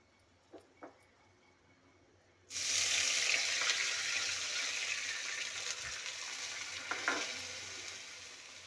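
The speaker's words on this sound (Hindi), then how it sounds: "ये हम रिफाइन ऑयल डाल रहे हैं और ये तेल गरम हो चुका है तो ये हम तेजपत्ता डाल रहे हैं" Bay leaf and whole spices like cardamom dropped into hot refined oil, a sudden loud sizzle that stays steady and close for several seconds after a couple of light clinks.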